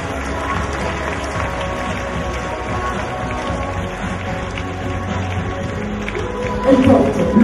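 Applause at the Miss Orléanais beauty pageant, a moderate crowd clapping under music and amplified hall sound, swelling louder near the end.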